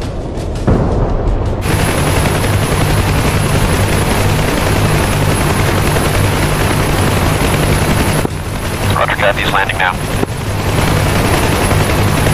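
Helicopter in DCS World, a Cold War combat search-and-rescue mission, coming in to land: a loud, steady rotor and turbine roar throughout, with faint distant booms and gunfire mixed in.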